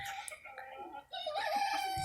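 Hens and a rooster cluck and vocalize up close in a backyard flock, with overlapping clucks and one drawn-out tonal call, steady and fairly loud without talk.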